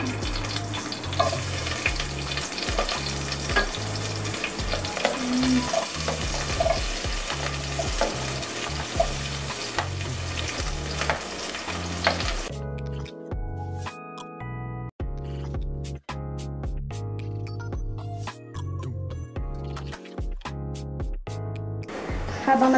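Onion for sinigang sizzles and crackles steadily in a hot pan, a loud close frying hiss that runs continuously, then turns into lighter scattered crackles.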